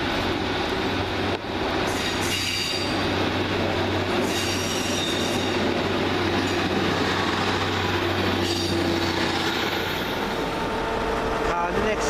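A First Great Western passenger train at a station platform, with a steady low rumble of the train throughout, some wheel squeal and clatter, and a station announcement voice running over the noise.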